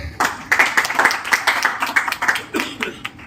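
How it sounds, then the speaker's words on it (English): An audience at a film-industry presentation claps, a scattered run of distinct, sharp hand claps from a modest crowd, irregular and fairly close, tapering slightly toward the end. "Yeah, definitely clap for that."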